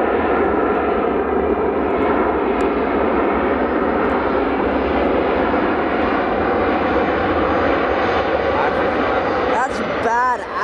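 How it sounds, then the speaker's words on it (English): A Delta jet airliner, the Atlanta Falcons team plane, passes close by with a loud, sustained engine roar that holds steady throughout, while voices talk over it near the end. "That's the Atlanta Falcons plane, actually."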